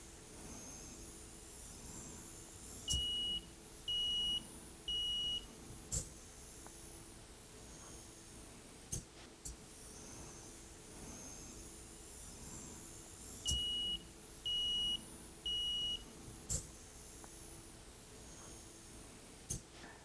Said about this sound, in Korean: 후진할 때 부저도 울리고 LED로 깜빡거리는지 잘 한번 보시기